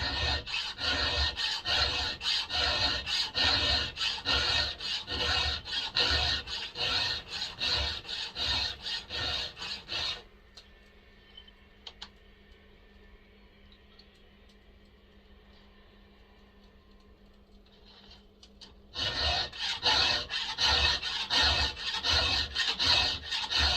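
A hand file rasps across a chainsaw chain in quick rhythmic strokes, loud and close, stops for a quiet pause of a few seconds with faint clicks, then resumes the same steady filing.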